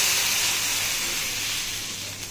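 Water poured onto lentils frying in hot oil sets off a loud, close burst of steamy hissing that fades slowly over a couple of seconds, with no talking.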